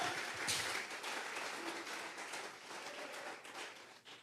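Applause from a church congregation during a Bible study service, a faint, steady patter of many hands clapping that thins slightly toward the end.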